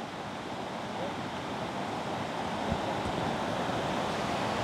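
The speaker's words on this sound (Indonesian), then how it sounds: "Silakan Abang nikmati air terjun Sigala-Galanya." Steady broadband rush of the Sigala-Gala waterfall in Mandailing Natal, a constant roaring wash of falling water heard fairly close and continuous throughout, with no voices over it.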